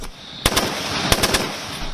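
A handful of loud gunshots from night-time target practice snap in two short bursts, a couple of quick shots, a pause, then three more in fast succession.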